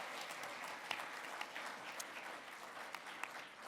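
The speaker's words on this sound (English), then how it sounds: "let's give another round of applause to these amazing next generation leaders" An award ceremony audience applauds, a faint, distant wash of many hands clapping at a steady level with occasional louder individual claps, no voices over it.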